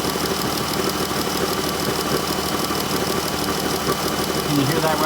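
Flexplate on a Ram Promaster van rattling on the transmission side, a steady loud metallic clatter over the running engine, close up and continuous without any voices.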